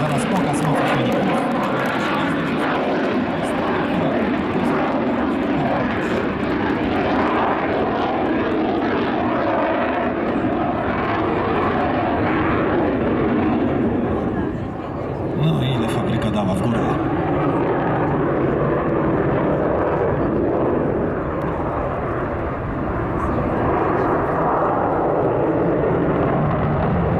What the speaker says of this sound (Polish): Zaraz pokaz mocy silników.